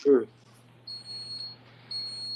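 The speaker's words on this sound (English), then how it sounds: "Who beeping? Oh no, that's the refrigerator." A refrigerator beeping at home, a thin high electronic tone sounding twice in steady pulses, faint under a low hum after a brief burst of talk at the start.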